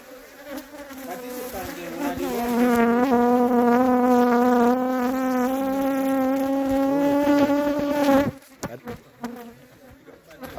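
Honey bees buzz around an open hive during a practical beekeeping session, a loud, close, steady droning hum that swells and holds for several seconds before breaking off, with faint voices around it.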